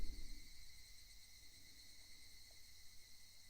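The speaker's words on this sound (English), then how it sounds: "Only the cry of the cicadas remained, unknowingly loud." Cicadas in the Higurashi When They Cry video game, a faint, steady high buzzing drone holding evenly throughout with no other sounds.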